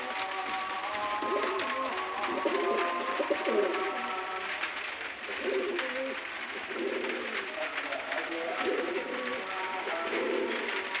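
Pigeons, including a tagged Malwai bird, coo in soft repeated rounds, the throaty calls rising and fading over a busy background of other birds and distant crowd noise.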